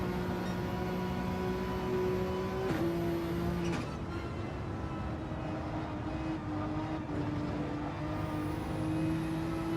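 GR3 race cars roar through a stretch of the Nürburgring Nordschleife in a racing game, several engines droning and shifting pitch together at steady high volume, with gear changes and cars passing close by.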